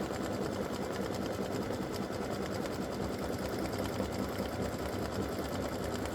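A sewing machine runs a steady, continuous satin stitch around an appliqué starburst for a Star of Bethlehem tic-tac-toe board, its close, even mechanical whirr holding without pause.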